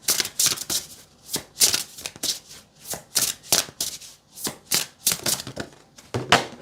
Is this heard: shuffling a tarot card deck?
yes